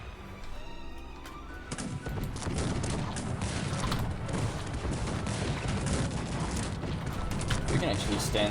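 Multi-barrel cannons fire in the strategy game Cossacks 3, breaking into a dense, sustained crackle of volleys and crashing impacts after a quieter opening, continuing loudly to the end.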